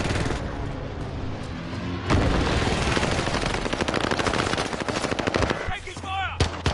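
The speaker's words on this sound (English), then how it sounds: "Taking fire!" Automatic gunfire bursts rapidly in a Warzone battle, with loud dense volleys after a brief lull, sharp repeated shots and a few softer impacts near the end.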